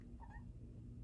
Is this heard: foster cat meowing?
yes